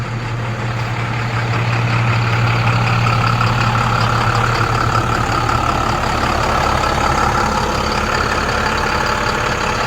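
An old converted bus with 116,000 miles idles steadily outdoors, a loud continuous low diesel rumble with a constant hum and rough mid-range clatter, heard alone without talk.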